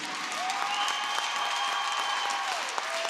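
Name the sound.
applause for hockey team seniors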